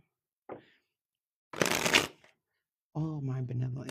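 A tarot card deck is tapped once and then riffle-shuffled in a short, crisp burst, close and fairly quiet, followed by a person starting to speak.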